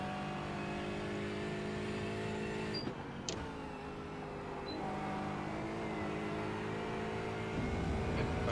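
A GT4 race car in the iRacing simulator, its engine holding a steady drone and shifting pitch as the car slows and accelerates through corners, with brief clunks and a rise in noise near the end.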